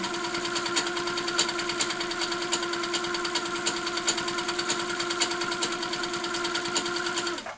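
A sewing machine quilting a lap-size quilt runs at a steady, rapid stitching rhythm, loud and close with a constant motor whine, uninterrupted for the whole stretch until it stops at the end.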